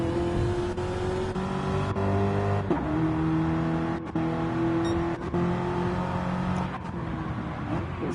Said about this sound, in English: It sounded to me like Campo's engine sounded a bit rough then